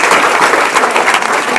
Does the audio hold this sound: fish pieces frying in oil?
no